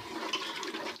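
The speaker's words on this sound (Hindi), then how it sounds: "अब हम इसमें जितना पानी हमें चाहिए हम उतना पानी शामिल करते हैं।" Water poured into a pot of aloo gosht, a potato and meat curry, for the gravy; a steady watery gush for about a second, fairly close and alone, ending in a sharp knock.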